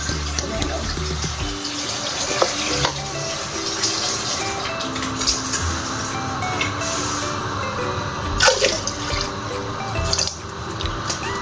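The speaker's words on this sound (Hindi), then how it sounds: "पानी डालना है अपने हिसाब से पानी डाल लें" Water pours and splashes into a metal pressure cooker for chana dal, a continuous gushing stream with occasional clanks and drips.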